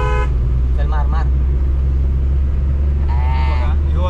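A car overtakes a dumper truck on a road toward Kankavli, with a steady loud engine and road rumble throughout and a few horn toots near the start and end.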